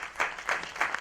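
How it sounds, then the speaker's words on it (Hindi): A few faint, evenly spaced handclaps from a thin crowd at a film trailer launch event, brief and quiet with no voices over them. "ये तालियों की जो आवाज है ये थोड़ी ज्यादा होनी चाहिए"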